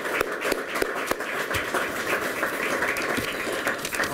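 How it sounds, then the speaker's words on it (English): Quiet, scattered applause in a room at an army hockey locker room dedication, with a few distinct sharp claps standing out over a soft, steady patter. "I'd like to give a round of applause to you all for doing that."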